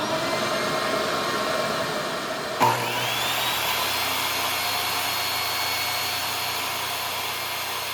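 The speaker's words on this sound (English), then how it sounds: "Now I can use my crosscut sled to square off the ends." A table saw spins up abruptly and whines steadily, crosscutting walnut on a crosscut sled with a continuous high-pitched buzz, no talking.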